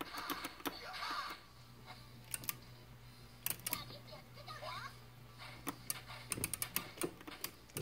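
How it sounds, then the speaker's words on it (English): Joystick buttons on a game controller clicking during video game play, close to the microphone, a series of quick irregular clicks and taps over a quiet background hum. "All that clicking you hear is the joystick."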